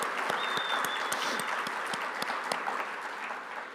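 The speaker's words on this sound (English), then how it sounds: "Give her a round of applause." Steady applause from a conference audience at the 2025 STEM Ecosystems National Conference, dense clapping filling the room throughout with no voices on top.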